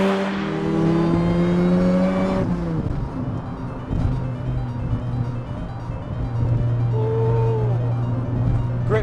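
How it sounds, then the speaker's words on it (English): A supercharged Vauxhall Astra van drives with a loud, steady engine drone and a rising whine on top, revving up in the opening seconds, then holding a constant tone before climbing again near the end. "That supercharger, that noise, man."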